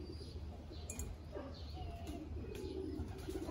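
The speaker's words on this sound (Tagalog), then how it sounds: "May mga dove dito, ito." Doves give soft, faint coos at a pigeon loft in Texas, heard against a steady low background rumble with a few light chirps, and nobody speaks.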